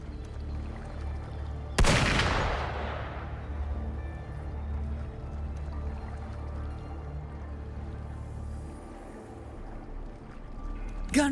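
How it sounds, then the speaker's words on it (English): A single loud gunshot-like burst from the video game Wuthering Waves cracks out and decays, followed by a low ambient rumble and faint background game sounds. "Gunfire! We've got intruders."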